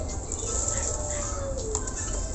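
A young cotton white starling (jalak kapas), only a week in captivity, gives a soft, brief call near the middle, faint beneath steady background noise and a low hum.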